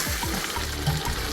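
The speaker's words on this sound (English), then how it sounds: "So go ahead and give it a stir." A pot of cassava leaves at a rolling boil is stirred, with a steady bubbling, sizzling hiss and a few soft scraping strokes of the spoon close by, no talking.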